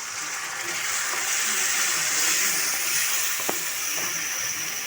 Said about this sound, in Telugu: కొన్ని వాటర్ వేసుకుందామండి.